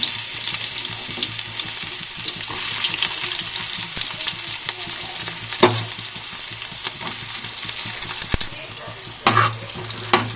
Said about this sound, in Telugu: పోపు అయితే వేసేసుకుందాం